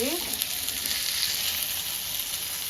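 Fish coated in homemade masala fries on a tava, giving a close, loud, continuous sizzle with a few faint stirring sounds.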